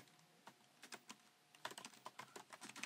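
Typing on a 16-inch MacBook Pro keyboard, a quick close run of soft, light key clicks in an uneven rhythm against a quiet background.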